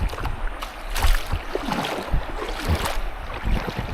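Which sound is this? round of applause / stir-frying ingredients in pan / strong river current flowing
strong river current flowing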